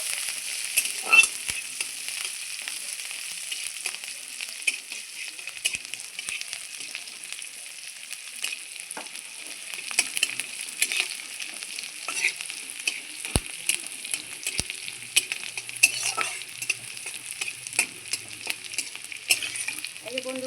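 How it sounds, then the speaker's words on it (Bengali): Chopped green chilies sautéing in oil with cumin, a light continuous hiss with occasional spatula scrapes and small pops, fairly quiet and steady, no speech. "এবার আমি কুচানো কাঁচা লঙ্কা দিয়ে দিচ্ছি একটু নাচার করে নিচ্ছি"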